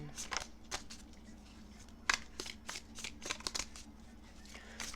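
Tarot cards shuffled by hand before a reading, a series of quick crisp riffling bursts and soft slaps in irregular rhythm, close and fairly quiet over a faint steady hum.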